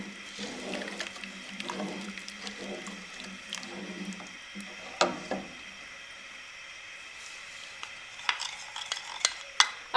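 A sugar mixture for matka kulfi cooks in a pot while a spoon stirs it, giving soft scraping strokes and a light bubbling sizzle, with a few sharper clinks toward the end.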